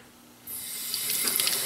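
Water gushes from a tap into a public restroom sink, starting abruptly after a moment of quiet and then running steadily as a close, hissing splash.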